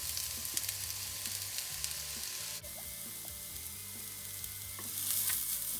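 Banana flower mixed with grated coconut sizzles and fries steadily in hot oil, with occasional stirring scrapes in the pan; a sharp change partway through as the mixture is added, continuous and fairly close with no talk.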